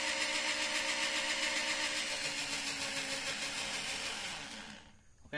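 An electric drill converted to run on DC from motorcycle batteries whines at high speed, a steady, fairly loud motor drone that fades and cuts off near the end.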